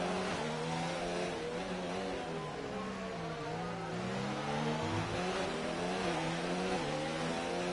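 F3 race cars battling in an online racing league game on the Azerbaijan circuit, engines droning and revving continuously with shifting pitch, steady and moderately quiet, with no talk over them.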